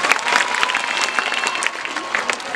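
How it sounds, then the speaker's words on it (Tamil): Audience applauding at a girls' school annual day, steady and fairly loud clapping from many hands with a crowd murmur beneath. "நமது பள்ளியின் உடற்கல்வி ஆசிரியைக்கு ஒரு கைத்தட்டல் தரலாம்."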